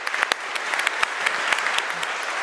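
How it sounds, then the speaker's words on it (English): Conference audience applauding at a live energy-transition conference session, a steady wash of many hands clapping with sharp individual claps standing out, fairly close and continuous with no talk over it. "Let's give them a very warm round of applause."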